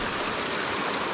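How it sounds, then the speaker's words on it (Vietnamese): A forest stream runs steadily and fairly loudly, a dense, unbroken rush of flowing water with no voices over it. "nước nó vẫn chảy tầm tầm tầm này"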